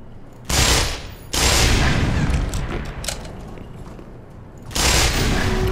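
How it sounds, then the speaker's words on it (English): Shotgun in Black Mesa firing loud, close blasts: one short burst, then a longer roaring shot with a fading tail, and another blast near the end, over low ambient rumble. "Why does it always fire two shots?"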